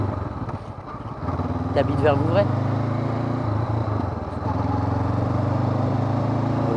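A motorcycle engine runs steadily nearby, a low idling drone beneath a man and woman chatting in French, with a brief whistle-like squeal partway through.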